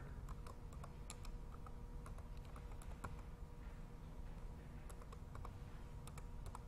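Quiet computer keyboard typing of a username and password: scattered light key clicks in short irregular runs over a low room hum, faint and close.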